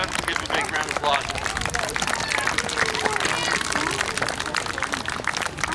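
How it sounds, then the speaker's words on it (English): An outdoor audience at a wartime weapons demonstration claps steadily throughout, a dense, continuous patter of many hands mixed with crowd murmur. "Give a big round of applause."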